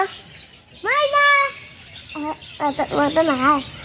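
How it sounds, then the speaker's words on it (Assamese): A myna bird at a zoo gives a series of whistling, warbling calls, a long rising note followed by quicker chattering bursts, fairly close, with voices murmuring around it. "মইনা চৰাইটোক মাতি দিয়াচোন"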